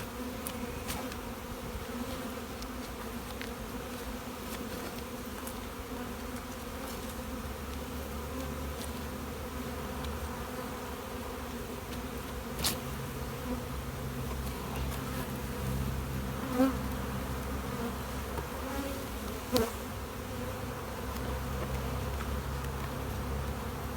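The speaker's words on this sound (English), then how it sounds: "Not only is the top box full of bees, but the bottom box is full of bees too." Honeybees buzzing steadily from an open brood box during a spring hive inspection, a continuous close, even drone with a few brief knocks.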